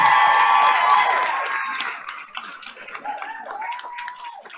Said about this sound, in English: let's put our hands together and cheer as loudly as you can for San Andreas Senior Alasia Nash.